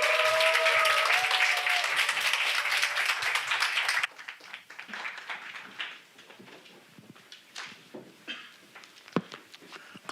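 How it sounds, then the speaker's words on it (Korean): A church congregation claps warmly to welcome a visiting professor to the pulpit, dense steady applause for about four seconds that then thins into scattered claps and quiet room shuffling. "우리 박수로 환영하겠습니다."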